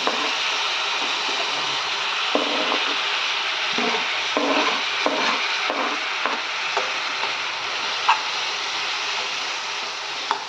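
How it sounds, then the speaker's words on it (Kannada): Two tomatoes frying in oil with ginger garlic paste for a capsicum and potato palya: a loud, steady sizzling hiss with scattered scraping strokes of a spatula throughout. "ಈಗ ಹೋಗಿದೆ ಆವಾಗ ಟೊಮೆಟೊ ಹಣ್ಣು ಹಾಕೋತಾ ಇದ್ದೀನಿ ಇಲ್ಲಿ ನಾನು ಎರಡು ಟೊಮೆಟೊ ಹಾಕಿದ್ದೀನಿ"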